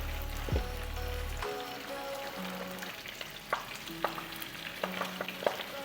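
Washed spinach leaves sautéing in a pan, a steady close sizzle with light stirring clicks and scrapes scattered throughout, a louder low rumble briefly at the start, no one speaking.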